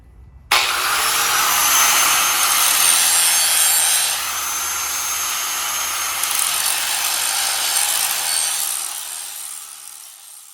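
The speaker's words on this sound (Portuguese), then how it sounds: "Eu só vou agora dar uma desbastada aqui, para ficar mais liso." A power tool smooths down wood on a floating kiosk build. It makes a loud, continuous grinding rasp that starts abruptly and runs steadily for about ten seconds, easing slightly partway through, with no talking.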